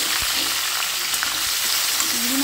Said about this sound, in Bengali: এই তেলের মধ্যে এবার চিংড়ি মাছটা ভেজে নেবে।